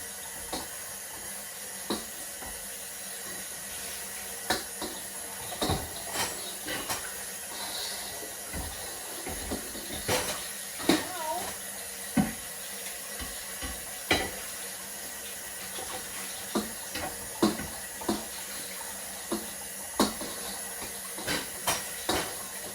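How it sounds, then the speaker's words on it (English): Tap water runs as a bowl is rinsed in a kitchen sink after salting cabbage for kimchi, a continuous hiss broken by irregular splashes and knocks, with no talk. "rinse my bowl to use all the salt."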